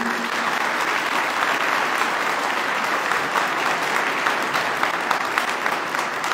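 Steady, dense applause from an audience greeting local officials at a Romanian political party gathering in Ilfov, sustained and even throughout with no voices on top.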